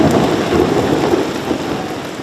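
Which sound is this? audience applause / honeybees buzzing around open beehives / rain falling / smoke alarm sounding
rain falling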